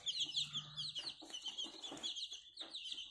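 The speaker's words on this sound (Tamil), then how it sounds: "இது பொட்டக்கோழி தான் நினைக்கிறேன்," Young incubator-hatched chicks, one thought to be a hen, give rapid high-pitched chirps and peeps, close and fairly loud and steady throughout with no talk.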